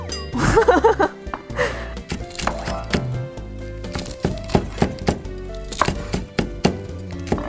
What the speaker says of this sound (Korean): 그럼 하나씩 썰어 볼까요?